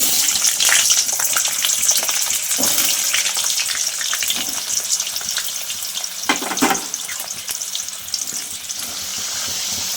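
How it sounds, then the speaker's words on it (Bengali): Potato pieces fry in hot oil in a kadai, giving a steady, close sizzle with bubbling crackle and occasional stirring clatter, no talk. "তেলটা গরম হয়ে গেলে প্রথমে আলুগুলো ভেজে তুলে নেব।"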